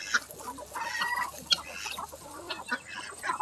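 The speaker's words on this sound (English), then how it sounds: "We got this little chicken group right here." A small group of farm chickens clucks and murmurs nearby, with overlapping soft clucks and a few sharper squawks over light background movement, no voices.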